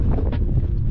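Gusty wind at a windy tent campsite buffeting the microphone, a loud close low rumble that swells and dips over a brief moment, with no talking.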